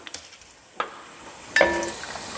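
Whole spices, cardamom and cloves with a piece of cinnamon, dropped into hot oil for masala dosa filling, a quick burst of sizzling and stirring with a couple of sharp clinks as they land, close and fairly loud.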